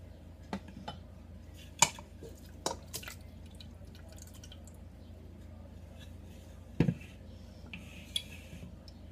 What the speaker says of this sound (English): Let me just put it in a bowl.